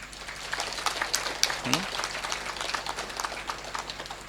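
An audience claps, a steady patter of many hands that stays fairly faint and even throughout, with a brief voice rising through it partway.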